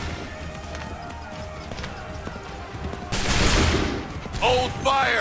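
A musket volley rings out on command in Assassin's Creed III, a loud, ragged burst of many shots past the midpoint, with a second burst and a shouted command over running feet and battle noise.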